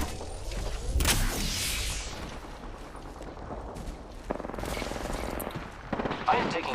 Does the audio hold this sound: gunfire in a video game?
yes